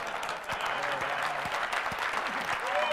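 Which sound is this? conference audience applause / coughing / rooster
conference audience applause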